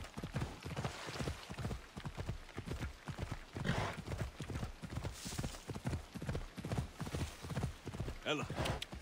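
Rapid, rhythmic hoofbeats of a galloping horse in Assassin's Creed Odyssey drum continuously, with a brief whinny near the end and a person speaking over them.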